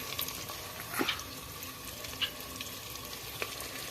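Hot oil sizzles steadily as a tempering (tadka) is fried for saag in a Punjabi village kitchen, with a few sharper crackles and a stirring clatter over the continuous frying hiss.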